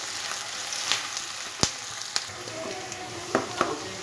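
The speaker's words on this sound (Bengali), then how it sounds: "এইবারে পেঁয়াজটা ব্রাউন কালার করে আমি ফ্রাই করে নেব।" Chopped onions frying in hot mustard oil in a pan, a steady soft sizzle with a few sharper crackles and stirring knocks, close and fairly quiet with no talking.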